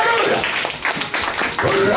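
Church congregation clapping during a Sunday worship service, a dense, steady patter of many hands with voices calling out over it.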